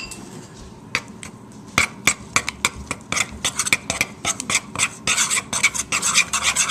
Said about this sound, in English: Then you're going to stir this too.